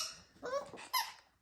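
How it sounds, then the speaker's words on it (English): A Schnoodle puppy sits on a squeaky dog toy, setting off two short, high squeaks in a row, the second sharper and louder, close by with no talking. "that one just sit on a squeaky toy"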